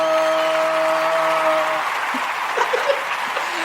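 Studio audience clapping, a continuous spread of applause that carries on after a sustained tone cuts out partway through, ending with a few scattered sharper sounds.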